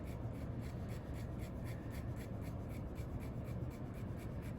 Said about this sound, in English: I'm just making lines to kind of go along with the contour of what I'm drawing.